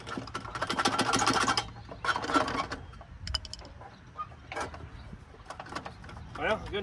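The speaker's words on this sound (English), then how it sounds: "Well, good news, motor just turned." An abandoned Snapper push mower's stuck motor, full of mouse nesting, is turned over by hand, giving several close bursts of whirring, rattling mechanical cranking separated by pauses, with occasional clanks and bits of talking between them.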